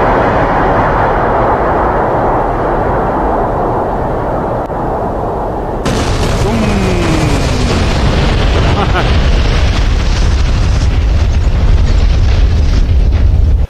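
Bombs dropped from an A-10C Warthog in the DCS flight game rumble in a loud, continuous roar over droning jet engine noise, and the blast noise swells and brightens partway through.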